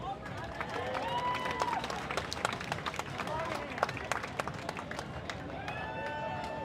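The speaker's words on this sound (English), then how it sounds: "Let's give a round of applause." Crowd at a live outdoor fight event in Key West claps and cheers, scattered sharp claps over a babble of voices, with whoops and shouts rising through the crowd.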